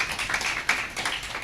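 Audience at a lecture on governance in India giving a brief round of polite clapping, moderately quiet and steady for a second or two.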